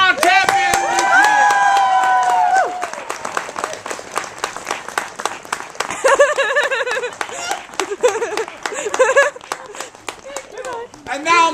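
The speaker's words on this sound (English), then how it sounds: "One more round of applause for our champions" Applause from an audience honouring the champions at the grand finale of a fall renaissance faire show, steady clapping through most of the stretch with a singing or sustained voice briefly over the start.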